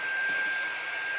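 A hair dryer blows steadily up close, drying craft snow on a farmhouse-style Christmas truck decoration, a continuous loud whoosh with a constant high whine and no talking.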